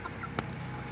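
A hen gives a single short cluck in a yard, fairly faint against steady background noise, with no talking.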